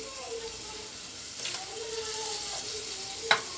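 Egg fry kulambu, a curry with fried eggs, bubbles and sizzles in a pan as it comes to a boil, a steady hiss with a few brief louder splutters.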